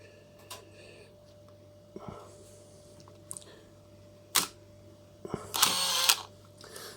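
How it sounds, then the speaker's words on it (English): A Canon T80 camera shutter fires with a loud mechanical clack, then a whirring motor wind-on buzzes briefly; a few softer clicks precede it in a quiet room. "So there you can hear the shutter, it's pretty loud because of the wind on."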